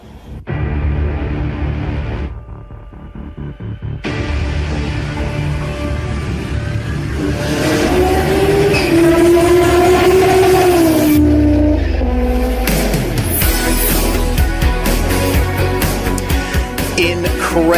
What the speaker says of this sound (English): Over 700 horsepower from an inline 5-cylinder turbo engine